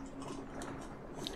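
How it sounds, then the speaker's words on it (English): A dog eats dry food close by, giving faint, irregular crunching bites against a quiet background with no talking. "Yeah, all that crunching, I do apologize for."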